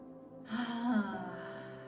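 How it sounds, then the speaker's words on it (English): One deep breath drawn in and slowly let out, close and fairly soft, a rising inhale then a longer fading exhale over a faint steady background hum. "I want you to take 3 deep breaths."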